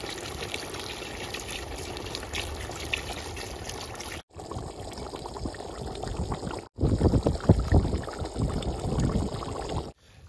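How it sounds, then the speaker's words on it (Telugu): Water is poured into a pot of simmering goat head curry, a steady running splash that breaks briefly twice and grows fuller and louder near the end, heard alone without talk. "కత్తే నీళ్ళు అయితే పోసుకుందాం"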